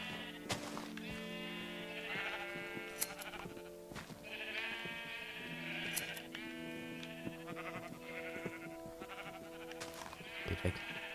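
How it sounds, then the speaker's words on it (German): A whole flock of Minecraft sheep bleats over and over, the blocky farm animals calling in overlapping, wavering cries that pile up close and loud across the whole stretch with no talking. "die haben einfach die Schafe gefüttert, ey, jetzt sind das so viele"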